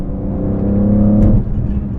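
Inside the cabin of a BMW E46 M3 fitted with a carbon fiber intake, the engine gives a loud, close, steady droning hum that swells briefly, then eases off near the end, with no voices.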